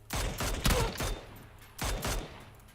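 Bursts of gunfire from the battle royale game PUBG, two clusters of rapid, loud shots about a second apart with no talk over them.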